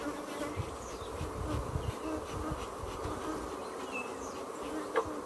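Honey bees buzz steadily around an open brood frame in a hive, a dense close swarm hum that fills the whole stretch with no talk over it.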